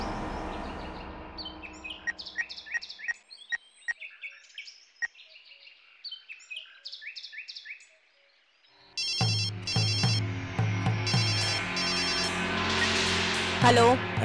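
A telephone rings in a Tamil TV serial scene: a warbling electronic ringtone pulses in repeated bursts, first mid-level with music beneath, then after a brief silence returns louder over a fuller backing track.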